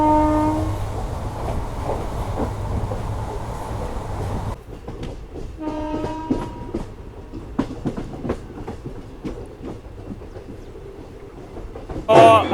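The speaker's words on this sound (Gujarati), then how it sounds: "અત્યારે આપણી ઇનોગ્રેશન સ્પેશિયલ ટ્રેન આવી ગઈ છે" An inaugural special passenger train on the Rajkot–Porbandar local route pulls into Ranavav railway station, its loud horn blaring at first before a softer run of rolling wheel clatter and clicks.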